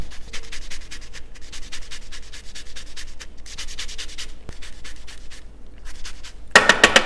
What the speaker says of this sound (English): we're going to take a microplane, which is just a really thin, a small holed grater, and get some lemon zest in there